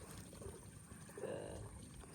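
Spring water from a mountain spring at a Zambales campsite on Mt. Calibungan pours in a soft, steady trickle, close and faint, with a slightly fuller splash midway through.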